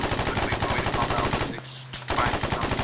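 Rapid automatic gunfire in Arma 3 fills the scene, with fast rhythmic bursts of shots that pause briefly and then resume, loud and close.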